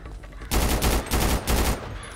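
Gunfire in the video game GTA 5 roleplay: three loud, rapid bursts of automatic shots in quick succession, close and punchy, with no talk over them.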